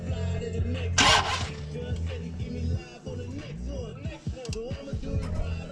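A car engine with a newly installed Holley Sniper EFI system cranks and fires up on its test fire, then idles and revs unevenly nearby, with people talking over the running motor.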